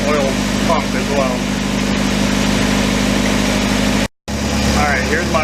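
A Nissan 240SX with a KA24DE engine, suffering from low oil pressure, idles with a steady, loud low hum that runs continuously, broken only by a brief dropout near the end.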